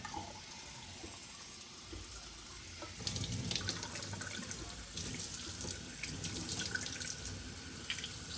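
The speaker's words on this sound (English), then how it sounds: "Now I can take this over to the sink and run some cold water in it" Cold water runs steadily from a sink tap into a hot mug, starting softly and then gushing louder into the basin for several seconds.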